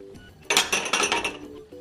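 Oil and yogurt are stirred in a bowl with a spoon, giving a quick run of clinking, scraping strokes for about a second between quieter pauses, close and clear with no talk.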